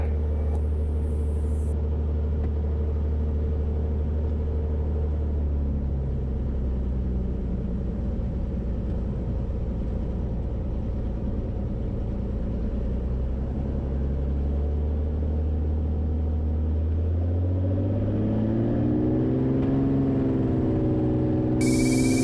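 A Cirrus SR-22 light aircraft engine droning steadily from inside the cockpit, the tone rising toward the end as power builds for takeoff on the runway.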